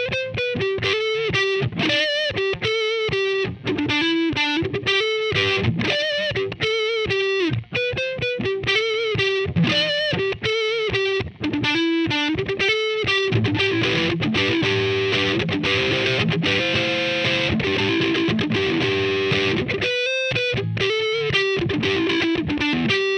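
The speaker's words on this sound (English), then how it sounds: "let's check out how the JCM sounds. I'm gonna switch the neck pickup." Electric guitar on the neck pickup through a Marshall JCM 800 amp model on a Line 6 POD HD500x, playing distorted, sustained lead phrases with bends, loud and upfront with no talking.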